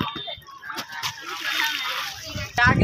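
Water splashes and sloshes as a group wades across a river, the splashing steady and close with a louder burst near the end, and voices talking over it.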